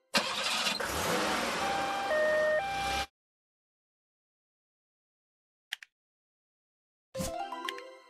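An ambulance engine starts in a children's transport video game, a loud three-second burst with siren-like tones, followed by silence, one short click, and then another bright burst of game sound near the end.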